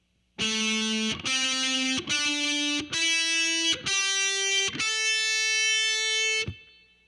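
Heavily distorted electric guitar plays six sustained power notes in a heavy metal style, each stepping higher in pitch with brief gaps between them, the last one ringing longer before fading out.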